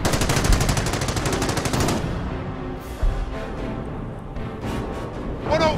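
Rapid machine-gun fire from a Company of Heroes battle rattles in a dense, fast burst for about two seconds, then gives way to scattered distant shots, rumbling battlefield noise and a sharp crack near the end.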